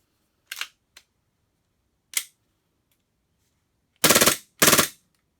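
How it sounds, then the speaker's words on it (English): An airsoft gas blowback Glock 18C fires, starting with a few sharp single cracks spaced apart and then two loud rapid full-auto bursts close up, each about half a second of fast rattling shots, with silence between. "So first thing we're going to do is test the full auto."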